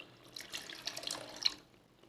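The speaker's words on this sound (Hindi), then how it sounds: "अब इसमें शामिल करेंगे थोड़ा सा पानी ताकि ग्रेवी बने।" Water is poured into cooking masala to form a gravy for Afghani chicken malai kofta, a soft, steady splashing pour over about a second and a half that fades away at the end.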